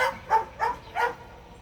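A dog gives three or four short, high yipping barks in quick succession, close by, against a low background hum.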